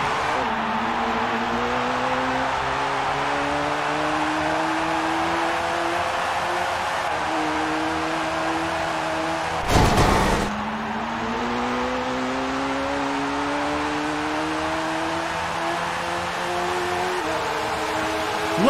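Race car engines in the PlayStation game Newman Haas Racing, a loud, sustained whine with pitch climbing through gear changes, a brief crash-like burst midway, then the revs resume rising.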